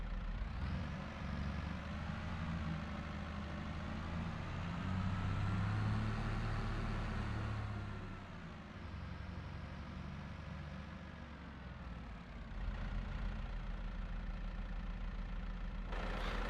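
A tractor engine in a farming video game idles and warms up during yard shunting, a steady low rumble that swells slightly mid-way and then settles, continuous and fairly close, with no talk.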